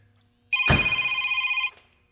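A mobile phone rings with a bright electronic tone, one burst of rapid warbling pulses lasting about a second, close and loud against an otherwise quiet background.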